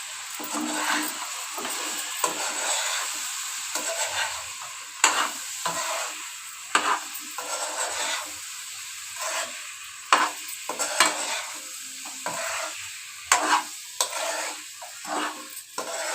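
Chicken frying in a pan with red food colouring, stirred repeatedly, giving a steady sizzle broken by regular scraping strokes of the spoon; close and moderately loud, with no talking.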